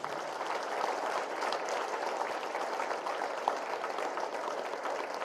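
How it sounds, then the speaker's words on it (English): Sustained applause from a large audience welcoming Dr. Kiran Bedi at a university talk, dense clapping at moderate distance, steady throughout with no break. "the round of applause needs to be more thunderous one"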